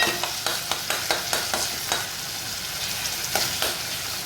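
Onion cooking in a pan with garlic, mustard seeds and cumin for a wild-vegetable amti curry, giving a steady sizzle under repeated sharp scrapes of a stirring spoon, close and moderately loud, with no voices.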